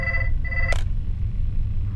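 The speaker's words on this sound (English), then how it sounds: "We're gonna listen to the phone call." A phone rings in the video game Fredbear's Fright, one short electronic trill pattern that breaks off, then a brief burst, over a steady low rumbling background.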